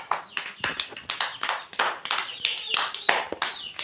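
Students in a classroom clap together in quick, rhythmic bursts of sharp, close hand claps. The pattern repeats steadily, roughly three claps to the second.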